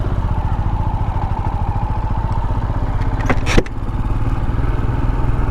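A Royal Enfield Scram 440 motorcycle's engine thumps steadily and loudly while riding, with a brief clatter or wind burst midway before the rhythmic beat continues.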